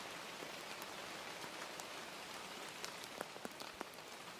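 Steady rain falls in a constant, even hiss of drops on surfaces, with a few sharper nearby drips standing out from the continuous wash.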